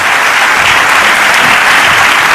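An audience at a Nobel Prize Dialogue event in India applauds a panel of speakers, a loud, dense, continuous wash of clapping from a large crowd throughout.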